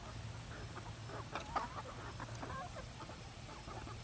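Faint, scattered clucking from a few chickens over a low steady background hum, soft and somewhat distant.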